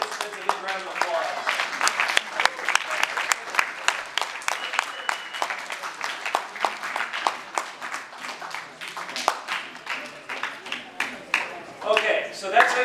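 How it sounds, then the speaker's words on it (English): Applause for participants at a motivational talk, a dense continuous patter of many hands clapping throughout, steady and moderately loud, with a voice briefly rising near the end. "Let's give our participants a big round of applause."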